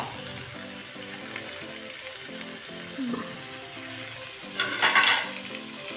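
Shredded cabbage filling for steamed momos sizzles steadily in a pan as it is stirred, a close continuous frying crackle with a few brief scraping stirs and a louder splash of sizzle near the end.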